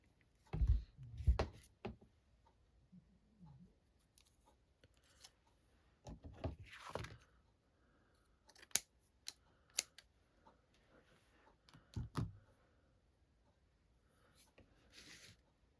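Scissors snip through cheesecloth in a few quiet, separate cuts spread across a mostly hushed stretch, with faint handling and rustling between them.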